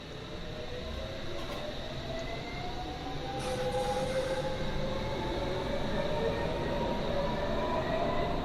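A simulated train from a railway simulator game rumbles steadily, with wheel squeal rising and falling in long sliding tones over a continuous low roar, moderately loud and fairly close, with no talk.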